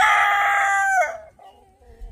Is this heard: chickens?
yes